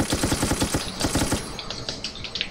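Rapid automatic gunfire rattles in Resident Evil: Operation Raccoon City, a tight burst of close, loud shots for about a second and a half, followed by scattered lighter impacts and clicks.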